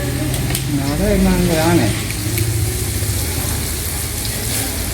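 Vadas dropped into hot frying oil at a busy hotel kitchen, a loud continuous sizzle and bubbling close by, with someone talking over the start.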